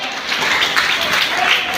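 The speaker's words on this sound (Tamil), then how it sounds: "ஒரு கைத்தட்டி ஆமென் சொல்லுவோம்." A church congregation claps together in steady, dense applause from a crowd, continuous and fairly loud through the short stretch.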